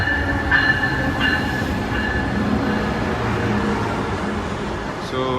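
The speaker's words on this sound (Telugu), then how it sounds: "సో ఫైనల్గా today I'm able to travel this by bright line." Brightline train in Florida rumbling steadily at close range with a sustained hum and faint tonal whine, continuous throughout with no speech.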